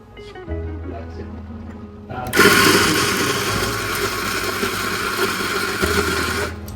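A Eureka burr grinder runs coffee beans, a loud, dense whirring grind that starts suddenly after a quieter low hum and continues steadily to the end.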